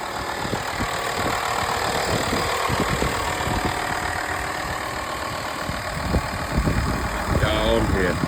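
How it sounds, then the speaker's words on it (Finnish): Old car engine idling after sitting in winter storage, a steady low rumble with faint irregular knocks running throughout, close by, with people talking over it at the end. "Ja apuvirralla kyllä joudun laittaa käyntiin, kun on seisonut koko talven"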